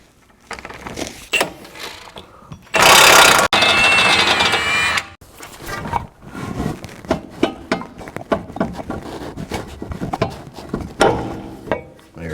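A ratchet works the bottom bolt out of a strut on a high-mileage Lexus, giving close bursts of rapid clicking and clanking tool handling, with one brief loud burst of noise early on.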